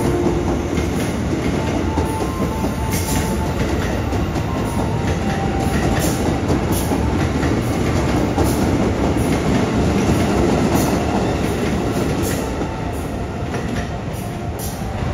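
The Fajar Utama Solo economy passenger train runs at speed, heard from the rear carriages as a loud, steady rumble with rhythmic wheel clicks over rail joints and brief squeals, and no talking.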